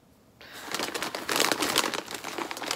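Paper wrapping around a stapled dress package is torn open and crinkled close by. After a brief quiet start comes a busy, loud rustle of crumpling and tearing that continues to the end.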